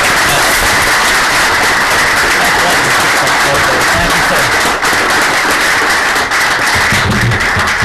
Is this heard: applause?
yes